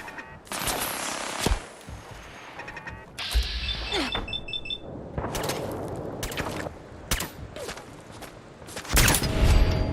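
Automated turrets in Fallout 4 firing in sharp, rapid bursts of gunfire, loud and near, with scattered impacts and brief gaps between volleys.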